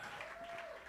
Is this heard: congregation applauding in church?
yes